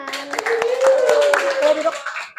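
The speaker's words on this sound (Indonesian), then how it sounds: "Tepuk tangan dulu buat Elman" Students in a seventh-grade Indonesian classroom clap for a classmate after his presentation, a brief burst of scattered claps mixed with a teacher's voice and lively chatter, fading near the end.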